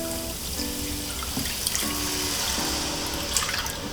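Beef stock pours into a pan for slow cooker beef stroganoff with a continuous liquid splash and trickle. The sound is close and steady over a faint background hum.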